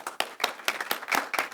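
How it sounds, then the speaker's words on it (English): Scattered hand claps at an academic lecture as a small audience applauds fellows, sharp distinct claps in an uneven rhythm, close and fairly sparse rather than a full ovation. "And now we'll give all of them a round of applause."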